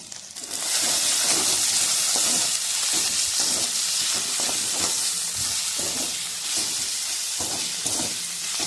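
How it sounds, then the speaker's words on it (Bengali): Ginger frying in a pan for a meat curry, a loud, steady hissing sizzle that starts abruptly and holds close up, with faint stirring knocks and no talking. "আদাটা একটু ভালো করে ভেজে নিলাম"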